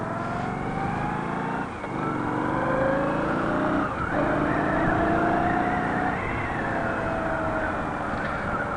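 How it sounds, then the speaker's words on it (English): A 2018 Indian Scout Bobber with the 69 cubic inch engine rumbles steadily while riding, with a loud, continuous motor drone and small rises and dips in revs throughout, and no talking. "this is the 69 cubic inch engine that's in the standard Scout"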